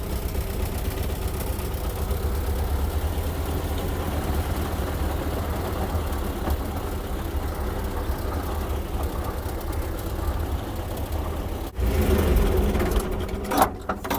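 An old tractor engine runs steadily with a hay baler hitched behind, a continuous low mechanical chug and rattle that holds for most of the clip before a brief louder clatter near the end.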